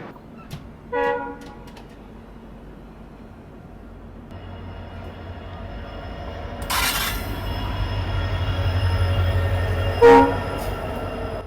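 The Jodhpur–Bathinda Express passes at a railway crossing in Rajasthan's Thar region, heard from a waiting train, with a low rumble building steadily, brief horn toots near the start, and a sharper wheel screech and clank toward the end.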